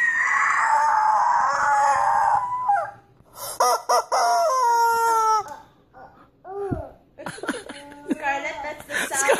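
A rooster crows loudly and close by in one long drawn-out call at the start, followed by people talking, a voice and laughter.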